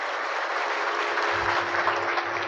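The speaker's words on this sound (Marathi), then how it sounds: "सर्वांनी एकदा कडकडून टाळ्या वाजवा" Steady, dense applause from an audience at a Shrimad Bhagavat katha gathering, honoring the makers of the costumed characters, continuous and even throughout with no speech over it.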